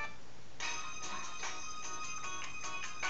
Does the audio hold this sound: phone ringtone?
yes